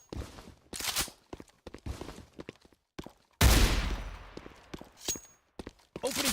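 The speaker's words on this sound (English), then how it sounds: "Opening fire!" Gunfire crackles in a Counter-Strike-style tactical shooter match, with sharp bursts and single shots, one loud close volley in the middle, amid footsteps and sparse game sounds.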